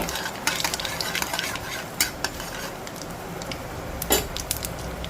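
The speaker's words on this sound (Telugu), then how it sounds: "ఆ మెంతులు కొంచెం వేగుతూ ఉంటే అప్పుడు మనం మినపప్పు ఆవాలు కూడా వేసుకోవాలండి" Fenugreek seeds, urad dal and mustard seeds roast in a pan for a cucumber dal chutney, with a dense crackling sizzle and frequent spoon scrapes and clinks against the metal, close up.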